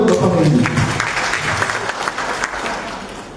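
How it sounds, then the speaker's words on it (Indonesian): Audience at a business gathering in a hotel applauding a company CEO: a dense, loud wash of clapping that stays steady throughout, with a few voices in the first moments. "Tepuk tangan buat Bapak Henry."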